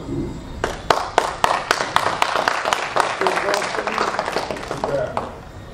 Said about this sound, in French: Vous avez les applaudissements du public, hein?